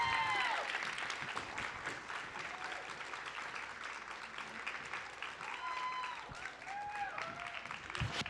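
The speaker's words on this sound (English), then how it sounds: "Round of applause for them while they come on up." A live audience at a Mabinogi game campfire event applauds as developers and GMs walk up onstage, sustained clapping from start to end with a few voices and cheers rising through it.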